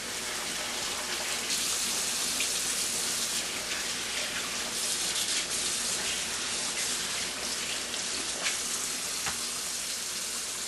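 Catfish pieces rinsed under running water, a loud continuous rush and splatter of water that holds steady throughout with no talking.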